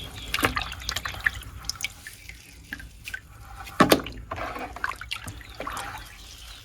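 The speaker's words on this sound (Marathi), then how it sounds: "बघा आपण याला थोडं भिजले, आता ही थोडं याला चोळून घेऊया" Water sloshing and dripping as a soaked, turmeric-stained shirt is rubbed by hand in a basin, with irregular splashes and trickles and one louder slosh midway.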